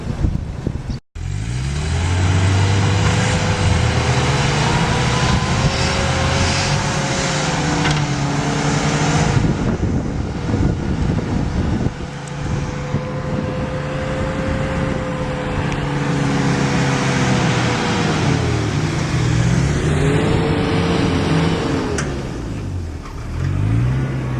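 A 4WD vehicle engine drones loud and close on beach sand, rising and falling in pitch as it revs and strains across several stretches, with wind buffeting.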